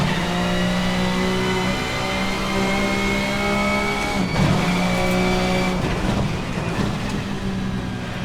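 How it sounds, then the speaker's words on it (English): A Super Touring race car lapping Brands Hatch in Assetto Corsa, its engine holding a loud, steady drone while the tyres squeal briefly under load through the corners. "Tyres are complaining a little bit."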